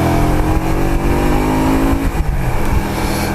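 A Honda Shadow 125 motorcycle engine revs loudly and close by, holding a steady, dense drone with slight rises and dips throughout.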